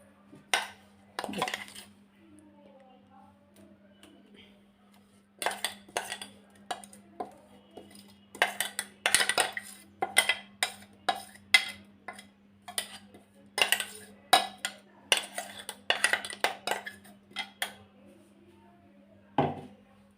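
A spoon clinks and scrapes repeatedly against a bowl in uneven bursts while thick wheat rava and moong dal batter is stirred, with pauses between and a faint steady hum underneath.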